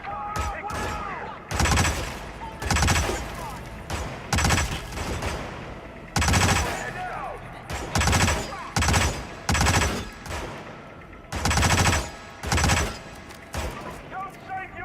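Repeated bursts of automatic gunfire in the Hitman video game, loud and close, arriving in short rapid volleys separated by brief pauses throughout.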